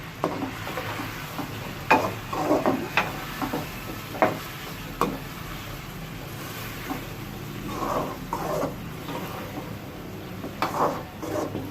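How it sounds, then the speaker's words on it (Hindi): Onions frying in oil for chicken keema, a low steady sizzle with scattered scrapes and knocks of a spoon against the pan, moderately close and without talk. "अब इसमें हम सारा प्याज डाल देंगे।"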